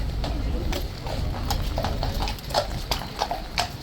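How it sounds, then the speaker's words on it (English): Hooves of a King's Guard horse clip-clop on pavement at Horse Guards, a steady run of close, sharp strikes under traffic and crowd noise, with a few people talking nearby. "It's one of those princely looking horses."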